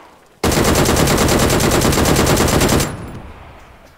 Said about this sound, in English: Oh, someone's firing at us.